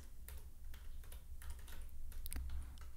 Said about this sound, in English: in the shell window just type help and keywords